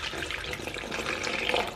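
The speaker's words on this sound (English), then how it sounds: "We're gonna go in with some warm water" Warm water pours steadily into a mixture for pizza dough poolish, a continuous close splashing stream with no talk.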